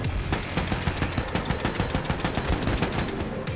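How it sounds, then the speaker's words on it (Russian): Rapid, repeated gunfire from the video game Wolfenstein II: The New Colossus, a shotgun blasting in a fast, steady stream of sharp shots over dense in-game noise. "Так, это дробовик. Это дробовик"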